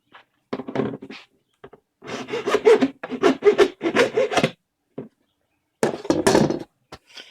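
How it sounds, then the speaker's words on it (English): A regular hacksaw cuts through the hammer of a cheap injection-molded plastic toy gun, a 2012 Dredd Lawgiver Mk 2, in short bursts of close, rasping strokes separated by brief pauses. "to saw it off, I'm just going to use a regular old hacksaw"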